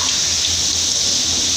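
A glass of water poured into a cooking pot while making kadhi pakora, a continuous bright splashing stream, loud and close, with no talk over it.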